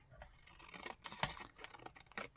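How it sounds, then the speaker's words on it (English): Scissors snipping through card stock at a desk while making a sympathy card, several close, quiet crisp cuts in an uneven rhythm up the middle of the sheet, with no voices. "I'm going to cut it with a pair of scissors"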